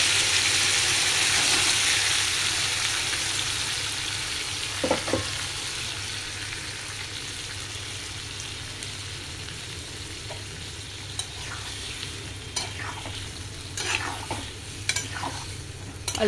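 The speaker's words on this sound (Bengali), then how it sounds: "এর মধ্যে এবার আদা ক্যাপসিকাম টমেটো লঙ্কা বাটাটা আমি মিশিয়ে দিয়ে" Potatoes frying with ginger, capsicum, tomato and chili paste in a pan give off a loud, steady sizzle that slowly fades, with occasional sharp scrapes of a spatula stirring.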